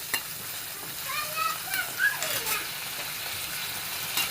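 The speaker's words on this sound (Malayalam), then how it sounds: "ഒന്ന് ഇളക്കി കൊടുക്കാം." Carrot chutney ingredients with small onions, chilli and ginger being stirred in a pan, soft scraping and light sizzling with a few clinks, close and moderately quiet.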